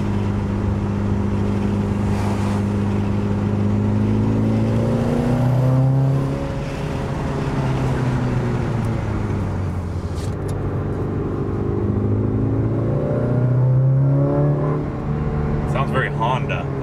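A Mitsubishi Evo 8 fitted with an aftermarket TOMEI Expreme or HKS exhaust runs close by, a loud, steady engine drone whose pitch dips and climbs in gentle revs over about seventeen seconds.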